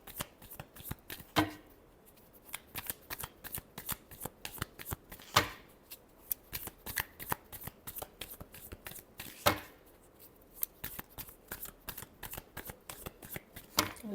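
Tarot cards are shuffled close up, with quick papery riffles and soft slides broken by a few sharper slaps as the deck is squared, quiet and repeated throughout.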